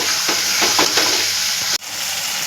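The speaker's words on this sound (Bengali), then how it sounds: "টমেটো দিয়ে একটু ভেজে নিয়ে তারপর আমি মশলাগুলো দেবো। চিংড়ি মাছ আমার আধ ভাজা হয়ে গেছে।" Half-fried shrimp and tomato sizzle steadily in a hot pan, a loud continuous frying hiss with a few soft stirring scrapes and a brief dip near the end.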